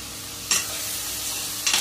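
Rice dry-roasting in a pan with curry leaves and cracked cardamom gives a steady soft hiss, broken by two brief scraping stirs, one near the start and one near the end.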